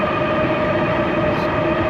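HOVSCO HovCart electric cart at full throttle, a loud steady rumble and whine of motor and wheels with a continuous rushing noise and no talking.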